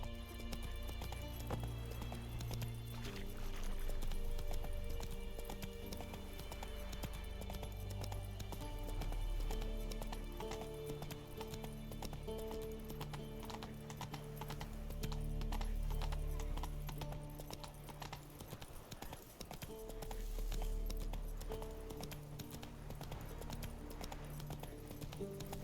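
Horse hooves gallop in The Witcher 3 in a steady, continuous clip-clop rhythm with occasional whinnies, layered over constant game music and ambience at moderate level.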